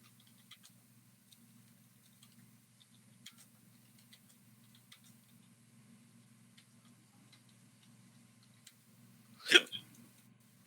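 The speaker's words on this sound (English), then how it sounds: "Oh no, you have hiccups?" One sharp, close hiccup stands out near the end against a quiet background with faint ticking.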